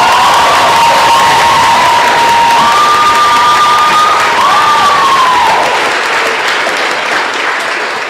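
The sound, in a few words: audience applause and cheering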